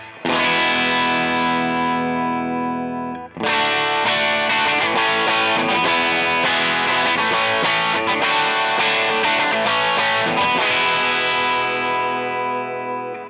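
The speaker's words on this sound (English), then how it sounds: "this is the sound that the pedal is giving you with a nice LED clipping and not a lot of distortion or really high gain type sound" An electric guitar runs through the All Up Front Doc preset on a Fender Tone Master Pro, set to LED clipping for mild, low-gain overdrive like a cranked Princeton Reverb. Sustained strummed chords ring loud, with a short break near three seconds.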